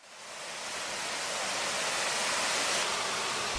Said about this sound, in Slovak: Padajúca voda z výšky 979 metrov vytvárala oblaky hustej hmly